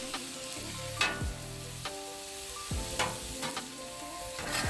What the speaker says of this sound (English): we're gonna mix the kimchi into our grilled onions